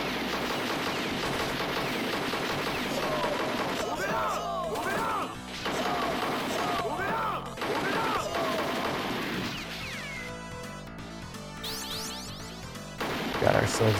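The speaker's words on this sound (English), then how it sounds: "Oh yeah, the gunshots sound great." Rapid electronic gunfire and explosion effects from the arcade video game Devastators, dense and loud, layered with game music and crashing blasts throughout.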